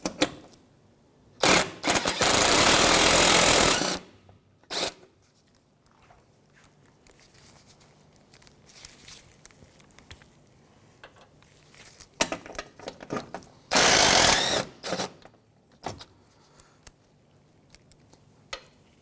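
Power tool removing 10 mm bolts from the bumper top of a 2007-2013 Mitsubishi Outlander, with several short loud whirring bursts separated by quiet stretches of faint clicks and handling noises.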